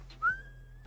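A single short rising whistle imitates Negan's whistle from The Walking Dead, with a quick upward swoop settling into a thin sustained note, fairly close and alone over faint background hum.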